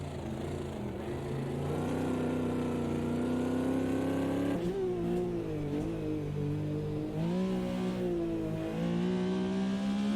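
Porsche race car in a multi-class race, engine revving hard on track with rising and falling pitch sweeps through gear changes, loud and continuous.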